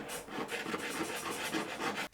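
A longboard sander rubbing back and forth over a kayak hull being repaired after rock scratches, a quiet rhythmic rasping with repeated strokes that stops briefly near the end.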